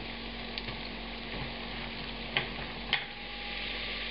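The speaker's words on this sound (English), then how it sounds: "I'm adding the cabbage and the shallots" Cabbage and chopped shallots fry in a pan over medium-high heat, giving a steady soft sizzle with a couple of brief louder crackles partway through, close and fairly quiet with no voices.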